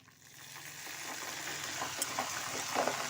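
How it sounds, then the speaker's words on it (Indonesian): Banana chips frying in oil in a wok after a spoonful of sugar-water syrup is added, a steady close sizzle with occasional stirring scrapes and bubbling pops, no voices. "Dan kita lanjut goreng dengan api sedang cenderung kecil saja hingga minyaknya sudah terlihat tenang."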